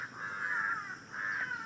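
A crow gives two drawn-out caws in a village at dawn, moderately distant and clear against quiet morning air, with no talking.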